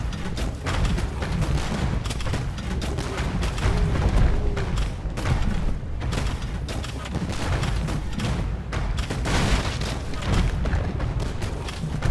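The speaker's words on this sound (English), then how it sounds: "These Turkish bombards will come in handy!" Turkish bombard cannons fire in the Age of Empires II video game, a dense, continuous barrage of booming shots and crackling blasts that overlap without pause for the whole stretch.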